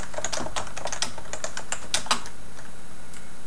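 Typing on a Topre Realforce 103UB keyboard with 55-gram keys, a quick run of soft, muted keystrokes close up, then a few scattered taps trailing off into quiet.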